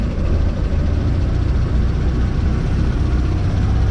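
A 1938 Morris Commercial truck engine idles steadily with the choke in, warming up as a loud, constant low rumble with no talk over it.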